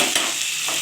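Vegetables sizzling in a hot pan of oil for a poppy-seed dish, a loud, continuous close-up hiss with a couple of brief stirring scrapes.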